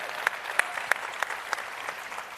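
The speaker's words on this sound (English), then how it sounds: "Let's give him a round of applause for that" A sparse round of applause from an audience at a political forum, a handful of distinct claps spaced about a third of a second apart, moderately close and fading out, with no voices over it.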